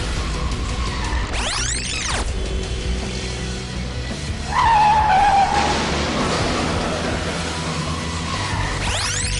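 A car skids along a road in a crash with a motorcycle, producing loud, sweeping tire squeals in several bursts over a rumbling engine and road noise, close and without talking.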